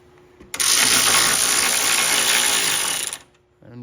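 A powered ratchet tightening the threaded collar on an Öhlins coilover during installation on a BMW E90 M3, a loud, close mechanical whir that starts abruptly, runs for about two and a half seconds, then stops.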